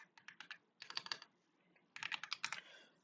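Quick bursts of clicky keystrokes on a computer keyboard, separated by a short pause, close and quiet, with no voices.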